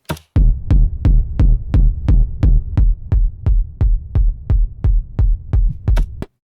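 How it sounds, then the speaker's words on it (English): A heavy, distorted Schranz techno kick drum thumping in a steady four-on-the-floor pulse, loud and booming, about a dozen hits with no other instruments. "so altogether, we have this Schranz techno kick"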